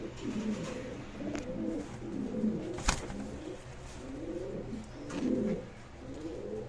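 Pigeons cooing in a loft where paired breeding birds such as Gola, Lal Garra and Raj Golla are kept for sale, with soft repeated coos running steadily throughout and one sharp flap or click midway.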